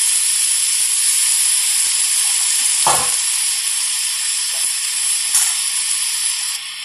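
Grated carrot sautéing in a pan gives a steady, close sizzle and hiss, broken by a few brief stirring scrapes, with no talking.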